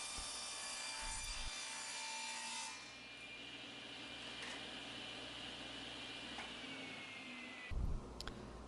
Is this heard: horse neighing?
no